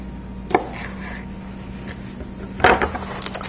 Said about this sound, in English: So I just got 3 of these pints cut in half, so I'm going to finish that up really quick.